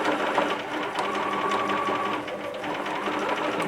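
A sewing machine runs steadily at close range, stitching down the facing inside a fabric jumper with an even, continuous whir.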